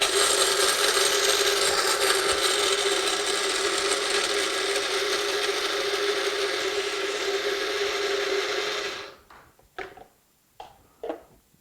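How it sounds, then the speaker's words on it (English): A very fancy electric spice grinder grinding cloves whirs loudly and steadily for about nine seconds, then cuts off, followed by a few short rattles and knocks. "Yes, this is a very fancy spice grinder."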